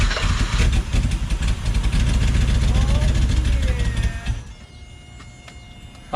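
A BMW E24 6 Series engine catches after sitting, running rough and loud for about four seconds with a buzzing idle before dropping to a quieter hum.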